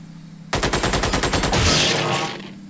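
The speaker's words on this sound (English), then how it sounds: "Oh, we can shoot from here." Gunfire in the tactical video game Xenonauts: a sudden, loud burst of rapid automatic shots in quick rhythmic succession, swelling into a roaring blast that fades out.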